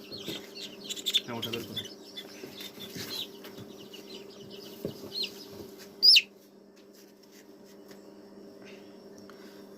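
Native chickens being vaccinated against Gumboro give a few faint, scattered clucks over a steady background hum, with a person's brief speech in between.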